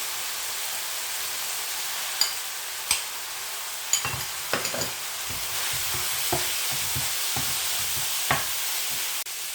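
Ground beef for tacos cooks in a pan as beans are added, a soft sizzle broken by several sharp clinks and scraping stirs from a spoon, fairly close, no speech.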